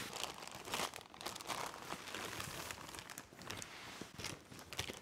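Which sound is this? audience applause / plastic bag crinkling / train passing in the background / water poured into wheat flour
plastic bag crinkling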